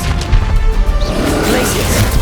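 Expelliarmus disarming spell cast in Hogwarts Legacy on PS5, a short, loud crack and whooshing impact that lands over ongoing battle noise.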